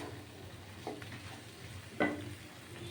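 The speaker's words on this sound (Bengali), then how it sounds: "এবার এই গরম গরম কড়াইয়ে এটা নাড়তে থাকবো" A kalakand sandesh mixture is stirred in a hot wok with the heat switched off. It sizzles faintly and steadily, with a couple of soft scrapes of the stirring utensil.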